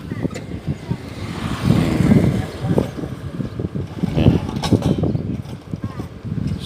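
Cold wind gusting along the Mekong riverbank at Bueng Kan, Thailand: uneven, rumbling buffets that rise and fall against the microphone, with faint voices now and then in the background.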